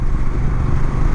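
A Honda Rebel 1100 bobber motorcycle rumbles steadily while riding, its engine a dense, continuous low drone mixed with wind noise, close and loud.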